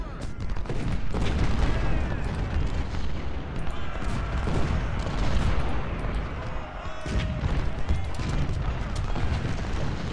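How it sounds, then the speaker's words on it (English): Artillery booms and gunfire volleys from the Ultimate General: Civil War video game, a dense, continuous battle din of overlapping shots and blasts held at steady loudness throughout. "His artillery's giving me a bit of a rough time."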